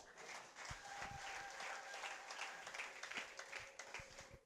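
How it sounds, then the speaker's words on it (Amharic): A congregation at a church anniversary service applauds the Lord in sustained, dense clapping from many hands, steady and lively at moderate distance, with faint voices and a held tone mixed beneath. "አጨብጭቡ ለጌታ።"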